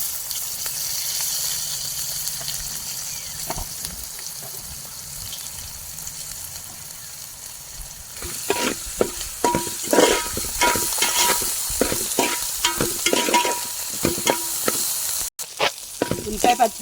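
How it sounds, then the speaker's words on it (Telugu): Onion, green chili and ginger-garlic paste frying in a pan, heard as a steady hiss that turns to louder sizzling with repeated scraping stirs in the second half. "ఉల్లిపాయ, పచ్చిమిర్చి, అల్లం పేస్ట్ మొత్తం మంచిగా ఫ్రై అయిపోయిందండి."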